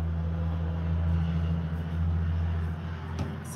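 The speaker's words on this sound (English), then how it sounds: "Big truck going by." A big truck passing outside, a loud, steady low engine rumble and drone that swells slightly and fades, with a faint clatter near the end.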